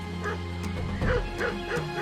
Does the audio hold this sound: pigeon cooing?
no